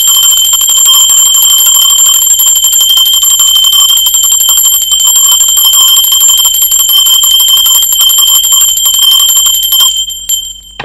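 A bell rings loudly and alone with a bright, sustained metallic tone that holds steady for about ten seconds and then quickly fades away.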